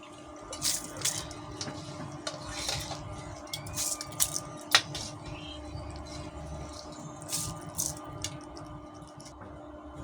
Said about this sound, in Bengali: এখন আমি এর মধ্যে পোলাও চালগুলা দিয়ে দেবো।